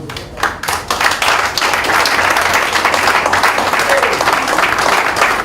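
A crowd at a hotel lunch event breaks into loud, sustained applause, dense clapping filling the room steadily for several seconds.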